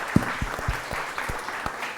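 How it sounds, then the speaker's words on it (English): Scattered, fairly quiet clapping from a small audience at a charity chef cooking-competition show, about eight distinct claps spread across two seconds rather than a full ovation. "Let's give it a round of applause for sustainability right now."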